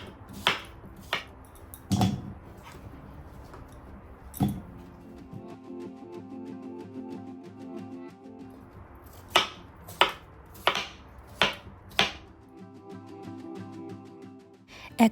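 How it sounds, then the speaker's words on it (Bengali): A whole pumpkin is peeled and chopped into pieces for a village vegetable curry. Sharp knife chops ring out alone, a few early on, then a rapid run of close, loud strikes near the end, with quieter scraping and peeling between them. "চলুন এখন এই ভাগ করে রাখা কুমড়োটাকে খোসাটা ছাড়িয়ে পিস পিস করে রেডি করে ফেলি তরকারি রান্না করার জন্য"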